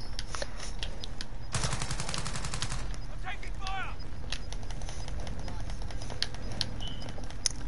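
Gunfire in a video game: a loud burst of rapid automatic fire followed by scattered single shots and small blasts, with voices talking over it throughout.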